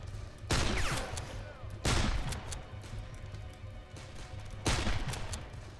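Gunfire in the Darkest of Days video game comes as three loud bursts of rapid shots spaced a couple of seconds apart, with a lower battle rumble continuing between them.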